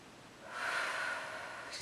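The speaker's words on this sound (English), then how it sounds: "And exhale it all out to the very end of the breath" A long, deep exhale of Pilates breathing, a soft breathy rush that swells after a quiet start and trails off slowly, close and alone.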